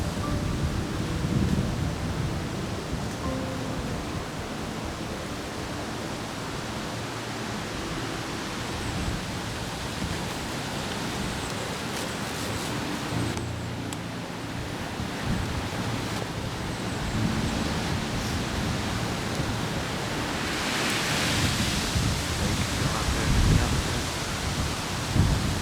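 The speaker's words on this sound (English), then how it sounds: "Super windy, obviously" Strong wind roars continuously outdoors at a deer hunting spot during an October cold front, a dense, rushing gusty noise that swells louder toward the end, with no voices heard.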